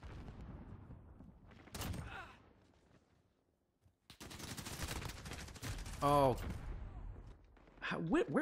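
Gunfire from a weapon in Call of Duty Modern Warfare comes in a few sharp bursts of shots between quieter gaps, with other game sounds mixed in.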